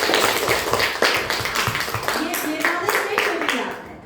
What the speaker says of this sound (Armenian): Ծափահարում ենք մեր դերակատարներին